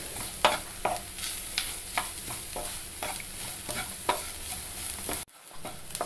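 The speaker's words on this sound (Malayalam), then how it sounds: "ഈ അരപ്പ് ഒന്ന് നന്നായിട്ട് വഴറ്റിയെടുക്കണം" Ground spice paste being sautéed and stirred in a pan for a banana-flower and green-gram thoran, with steady scraping stirs and a constant sizzle that suddenly drops away near the end.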